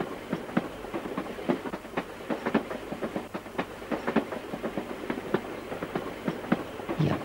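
A train rolls along the rails with steady, rhythmic clickety-clack beats over a low rumble, moderately loud and heard alone for about seven seconds.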